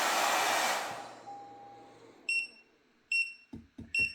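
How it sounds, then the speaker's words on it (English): An ALLPOWERS S300 portable power station overloads and shuts down: a hair-dryer load whooshes and cuts out, then the unit emits several sharp, high electronic alarm beeps in an uneven pattern alongside low clicks, close and fairly loud. "you heard it shut down and the alarm sounds"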